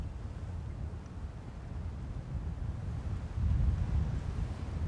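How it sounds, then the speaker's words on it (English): Wind buffets the microphone at the edge of an airport runway in Manchester, a constant low rumbling roar that swells stronger toward the end, with no voices heard. "The wind is coming straight down the strip though"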